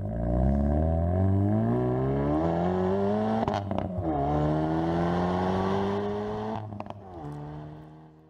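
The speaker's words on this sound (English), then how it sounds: "Instant power, thrilling torque, and just listen to this exhaust note." Exhaust note of a 2019 Hyundai Veloster N, up to 275 horsepower, revving steadily with rising and falling engine pitch, loud and close, with a crackle near the end.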